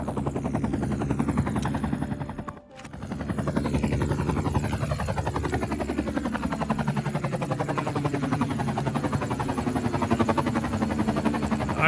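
A firefighting helicopter unit in the city-building game Cities: Skylines 2 drones steadily with a dense rotor and turbine hum, loud and continuous apart from a brief dropout, with no talking.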